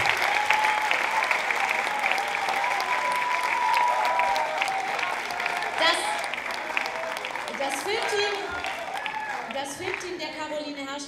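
An audience at a school film gala applauds prize winners with steady, sustained clapping, while voices and some tonal sounds rise over it in the second half.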